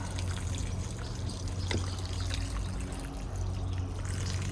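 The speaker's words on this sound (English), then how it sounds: "we're just going to water them in like that" Water trickles and pours steadily into potted container plants over a low background hum, a continuous soft splashing with no talking.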